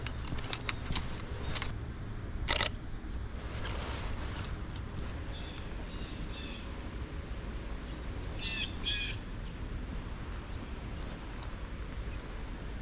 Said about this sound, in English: There's a bunch of American tree sparrows and dark-eyed juncos, and blue jays and cardinals.